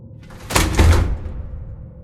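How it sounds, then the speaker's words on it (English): One heavy front door slams shut, a single loud thud with a brief boomy rattle that fades within a second, close and alone. "The tall furry figure had slammed shut the front door to my house with a single powerful paw."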